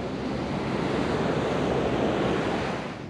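Steady, loud roar of ocean surf and wind at Redondo Beach, continuous broadband wash with no distinct breaks, sounding close and wind-buffeted.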